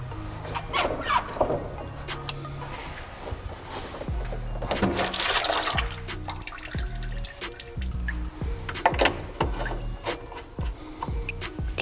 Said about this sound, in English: now we can take the clamp off the lower radiator hose.